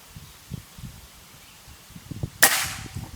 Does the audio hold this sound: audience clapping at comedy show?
no